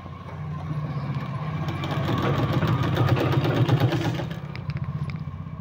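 An electric sewing machine stitches a sleeve. It runs as a steady, loud, close mechanical whir with a fast rhythmic chatter that swells slightly in the middle and carries on without pause.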